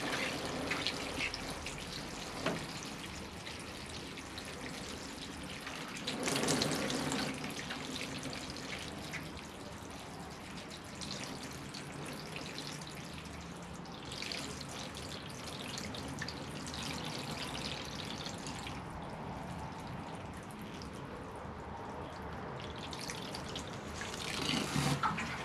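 Water poured from a watering can onto a Portulacaria afra bonsai in a cascade pot, a steady soft splashing and trickling through soil that runs on continuously, close and moderately quiet, with no talking.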